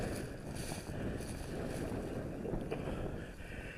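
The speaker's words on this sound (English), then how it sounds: "See how strong the wind's blowing?" Strong wind roars steadily across a campsite, a broad, constant rushing with gusty buffeting against the microphone, loud and close, with no voices.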